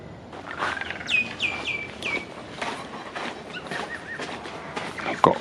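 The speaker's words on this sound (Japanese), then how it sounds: "なんか変わった鳴き声の 野鳥がいます" A wild bird on Tonaki Island, Okinawa, gives a run of sharp, unusual chirping calls, several in quick succession, heard outdoors at moderate distance over soft ambient noise.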